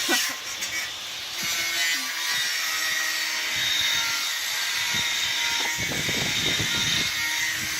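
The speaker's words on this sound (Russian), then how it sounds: "все пилит пока" Wood is sawn by hand for a homemade fireplace for a gazebo, an uneven rasping heard close among scattered knocks and outdoor background noise, rising to a burst of quick strokes near the end.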